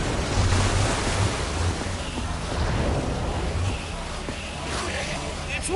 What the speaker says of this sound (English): I don't know how much water this thing is going to kick out